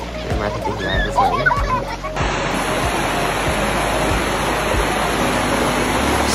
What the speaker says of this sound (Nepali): पानीको छल्काको आवाज